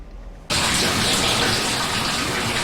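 Melting snow turned to muddy water runs into a street sewer. After a brief quiet moment a loud, steady rushing gush starts abruptly and continues, close up with no voices.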